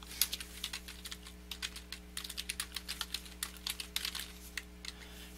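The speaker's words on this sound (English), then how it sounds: "We'll just simply type it here." Someone types on a computer keyboard while entering data in QuickBooks accounting software, producing soft, steady key clicks in irregular runs over a constant low electrical hum, with no talking.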